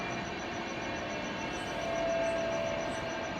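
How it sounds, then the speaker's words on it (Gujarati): A train passing at a distance across farm fields near Palanpur, heard as a steady rumbling drone with a faint high whine or horn tone, and no talking. "રેલગાડી જઈ રહી છે."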